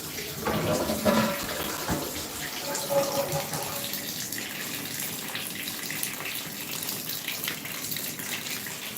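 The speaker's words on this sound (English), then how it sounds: "Water fixtures on throughout my house." Water runs steadily from fixtures left open throughout a house after an underground water main line broke, a constant moderate rush and splash with no voices.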